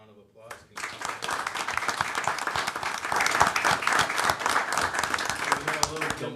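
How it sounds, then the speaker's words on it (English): An audience at a park district board meeting breaks into a sustained burst of applause right after a brief spoken line, the clapping steady and fairly close for several seconds. "please, a round of applause."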